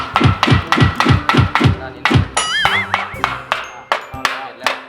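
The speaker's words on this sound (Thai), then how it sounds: "ไม่มีอะไรแล้วเคาะกลางเลย" A metal tool taps the middle of an engine part into place during engine assembly, about a dozen sharp, evenly spaced knocks up close, with a voice briefly heard among them.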